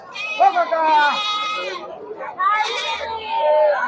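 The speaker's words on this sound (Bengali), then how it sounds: "দেখেন কত হাজার হাজার সব ছাগল" Goats bleating loudly and close at a crowded goat market, two long wavering cries one after another with a faint murmur of the market beneath.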